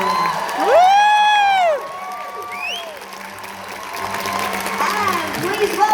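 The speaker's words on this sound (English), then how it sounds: "Give a round of applause" Convention crowd at a Walking Dead Q&A at Liverpool Comic Con applauding and cheering, with a loud whoop and shouted voices rising over steady clapping that continues underneath.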